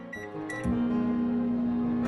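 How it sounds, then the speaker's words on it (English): A few beeps and clicks, then a microwave oven starts and its steady low electric hum drones on evenly as it runs. "Place in the microwave and microwave for 75 seconds."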